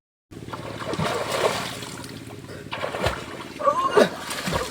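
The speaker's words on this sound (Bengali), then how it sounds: "জল এতটাই ঠান্ডা, আর বেশিক্ষণ জলে থাকতে পারছি না, তবু স্নান করছি" Splashing and sloshing of cold water as someone bathes, in irregular bursts with a few brighter splashes near the end, close by.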